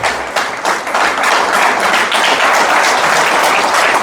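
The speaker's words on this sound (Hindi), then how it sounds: "एक बार दिनेश मोहन जी के लिए जोरदार तालियां बजाइए" An audience at a motivational talk applauds loudly for Dinesh Mohan, dense sustained clapping from many hands filling the hall from start to finish.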